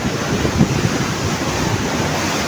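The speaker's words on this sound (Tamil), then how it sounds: "அந்த பில்டிங்கு கீழே தான் அவ்வளோ தண்ணியுமே வருது." Water rushes out beneath a dam building at Sri Lanka's Yan Oya project: a steady, loud, broadband roar of churning flow, continuous and close, with no voices.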